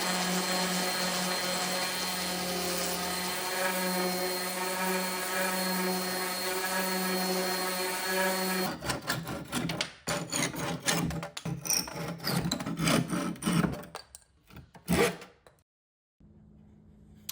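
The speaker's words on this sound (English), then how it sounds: "So I just used some 80 grit sandpaper to flatten that board out." 80 grit sandpaper is rubbed by hand across a wooden board to flatten it. Several seconds of steady mechanical whirring give way to uneven scratchy strokes, loud and close, before a short pause.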